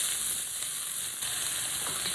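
Onion frying in a pan, a steady bright sizzle held evenly and close with no talking.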